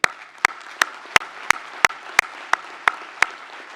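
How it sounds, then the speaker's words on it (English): Graduates at a 2022 University at Buffalo commencement receive applause: one nearby pair of hands claps in a sharp, evenly spaced beat over a softer, distant bed of audience clapping. "I invite you to join me in a round of applause for our UB-SIM class of 2022."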